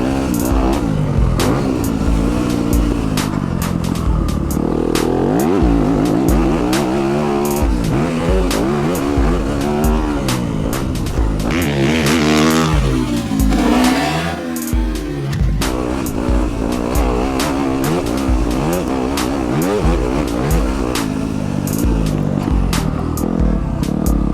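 A 2020 Yamaha YZ250FX dirt bike engine revs hard on a muddy motocross track, loud and close, its pitch sweeping up and down through repeated throttle bursts with no break.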